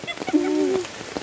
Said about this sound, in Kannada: ಜೋರು ಮಳೆ ಬರ್ತಾ ಇದೆ.